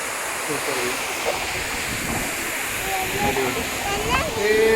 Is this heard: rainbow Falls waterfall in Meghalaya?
yes